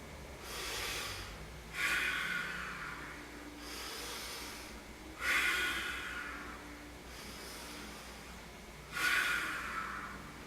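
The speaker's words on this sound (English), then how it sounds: "We're breathing an uninhibited breath through the nostrils as we do this." Slow, deep breaths drawn in and out through the nostrils during a spinal energizing exercise, about six long airy hissing breaths in an even rhythm, close and alone.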